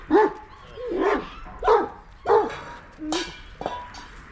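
A dog barks five or six times at an even pace, close and moderately loud, with a short yelp-like note near the end.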